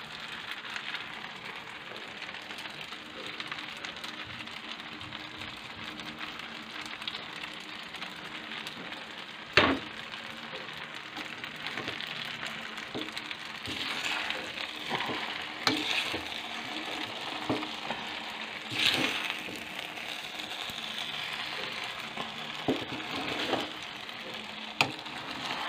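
A special egg cooking in a pan for spaghetti, a soft continuous sizzle and crackle with occasional louder clinks and scrapes, moderately close, with no talking.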